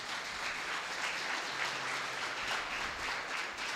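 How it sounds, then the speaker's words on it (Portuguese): A church congregation applauds during a Sunday celebration service, a continuous, even wash of many hands clapping that sounds faint and somewhat distant throughout. "Vamos, aplauda Jesus na vida da Jéssica."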